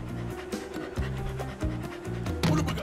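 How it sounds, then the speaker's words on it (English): Crash Bandicoot pants like a dog in the video game, rapid rhythmic breathy huffs repeating over bouncy game music and effects. "I think it's just irritating that he sounds like a dog."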